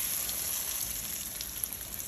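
Chicken pieces frying in olive oil in a hot pan give a steady, close sizzle with a dense, even crackle and no talking.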